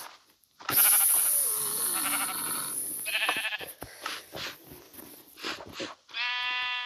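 Sheep bleat in the video game Minecraft, several short tonal calls with harmonic stripes standing out over game sounds, plus clicks and bursts of activity, loud and close.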